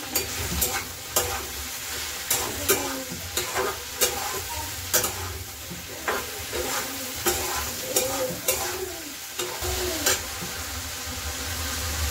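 Okra (bhindi) fries in a pan with a steady sizzle. A spatula scrapes and knocks against the pan in a regular stirring rhythm, close and fairly loud.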